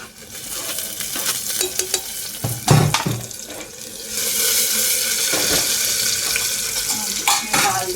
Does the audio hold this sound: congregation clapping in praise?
no